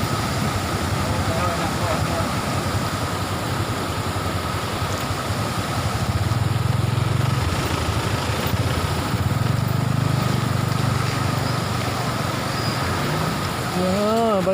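A motorbike rides through flood water in North Aceh, its engine droning steadily under continuous splashing and rushing water, nearby and fairly loud for the whole stretch.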